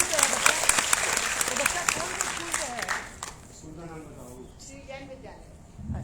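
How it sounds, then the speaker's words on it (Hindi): Audience applause at a school elocution contest for a student named Raunak Gupta, steady clapping for about three seconds, then fading as a voice speaks. "बार रौनक गुप्ता के लिए जोरदार तालियां बजा दीजिए आप लोग।"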